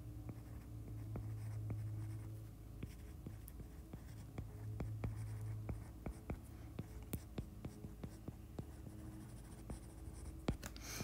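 Someone writes out a first-order differential equation during a lesson on numerical methods. Quiet, steady scratching strokes tap along in an irregular rhythm over a low background hum, with no talking.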